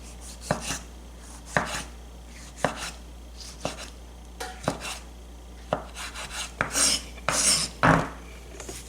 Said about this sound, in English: basically dice them to get nice little squares